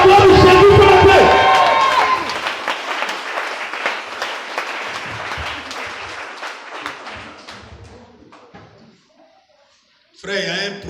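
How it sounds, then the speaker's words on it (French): Church congregation at a French-language worship service applauding and cheering loudly at first, the clapping and voices thinning and fading over several seconds before a brief burst of noise returns near the end. "Oh, acclame Jésus de Nazareth"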